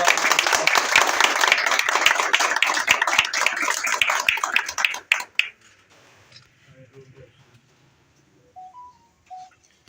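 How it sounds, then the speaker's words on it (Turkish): Crowd applauding at a local political candidacy application event, dense loud clapping for about five seconds that cuts off abruptly, leaving a near-silent room with a few faint tones. "Alkışlıyoruz"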